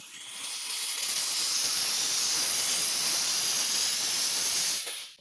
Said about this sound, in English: Obviously, you don't want to have the steam activated while your hand is right there.